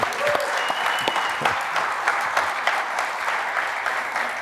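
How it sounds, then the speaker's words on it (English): Audience applause at a live show featuring a guest with her dogs, a steady, full crackle of many hands clapping with a few sharper individual claps standing out. "That deserves some applause again."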